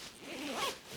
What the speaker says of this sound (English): Now we can zip up this nice Peak Design packing cube.